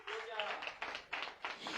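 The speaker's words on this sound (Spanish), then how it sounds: "déle ese aplauso, hermano, no se calle" A church congregation claps during a sermon, a quick run of close, uneven claps in short bursts that sounds more like a few people than a full crowd.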